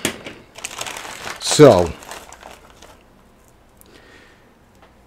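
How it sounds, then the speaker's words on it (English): Sharp new scissors slice open the packaging of a MetallicGear Neo Cube PC case, producing a loud, close crinkling cut that lasts about half a second. A person speaks briefly just before the cut, and near silence follows. "I'm gonna need scissors to get this open."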